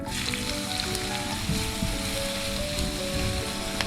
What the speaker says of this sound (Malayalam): ഇത് ഒരു സവോളയാണ് നൈസായിട്ട് അരിഞ്ഞത് നമുക്ക് വറുത്തെടുക്കാനുള്ളതാണ്